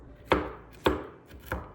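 A kitchen knife chops through nuts on a cutting board in three sharp, separate strikes, close and fairly quiet, with no talking.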